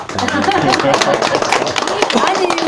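Applause breaks out at a gathering at Seoktansa, a Buddhist temple in Jeongeup, honoring an encouragement award, with scattered claps running steadily under a speaking voice and chatter for a few seconds.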